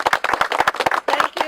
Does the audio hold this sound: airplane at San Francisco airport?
no